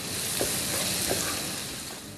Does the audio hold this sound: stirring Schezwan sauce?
yes